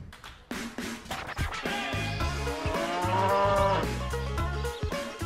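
A black-and-white Danish dairy cow on a farm in Aabenraa moos loudly and at length, with drawn-out, rising and falling calls close by and no talking.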